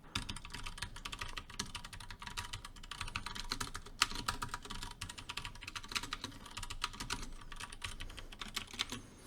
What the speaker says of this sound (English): Keyboard noise going on the T669